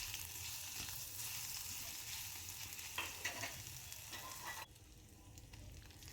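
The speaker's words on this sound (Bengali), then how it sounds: "কড়াইতে তেল দিয়ে সাদা জিরে ফোড়ন দিয়ে দিলাম। এরপর দিয়ে দিলাম 1 চামচ মতো রসুন বাটা।" Cumin seeds and garlic paste sizzle in hot oil in a kadai, a dense steady frying hiss with some stirring scrapes, close and continuous, dropping slightly in loudness near the end, with no voices.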